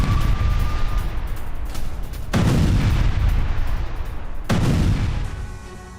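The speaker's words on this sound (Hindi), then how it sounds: "पोक्रोवस्क में माइन से विस्फोट किया गया है।" Three heavy booming blasts from mine explosions in Pokrovsk roll out one after another at steady intervals over a constant low rumble, loud and distant-sounding, with no talking.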